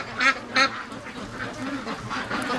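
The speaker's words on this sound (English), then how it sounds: "ducks playing in the rain" Two loud free-range duck quacks ring out close by, followed by softer scattered quacking over a steady background of pouring rain.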